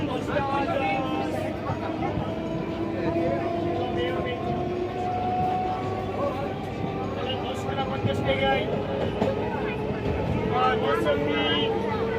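A train at Pagla Chandi railway station gives off a steady, loud rumble with sustained tonal hums running throughout, while people talk over it.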